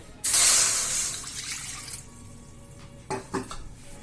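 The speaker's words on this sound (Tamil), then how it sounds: "2 கப்பு அளவு நான் தண்ணி ஊற்றிக்கிறேங்க" Roughly two cups of water pour into a frying pan while puffed-rice and jaggery laddoos are made: a loud rushing splash that fades over about a second, followed by a few light metallic clinks.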